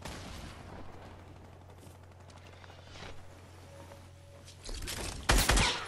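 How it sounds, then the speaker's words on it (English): Gunfire in the video game Fortnite: a quiet stretch of low background game ambience gives way to a sudden, loud burst of rapid shots at the very end. "Hey, who's shooting at me?"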